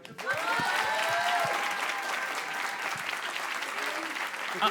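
A studio audience applauds warmly for a guest on a French talk show, steady dense clapping that holds throughout, with some voices and cheers mixed in and a faint tonal hum underneath.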